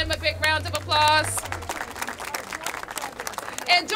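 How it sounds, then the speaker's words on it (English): An audience applauds at an outdoor ribbon-cutting event, steady clapping from a crowd filling most of the few seconds, with voices calling out over it. "Give them a big round of applause."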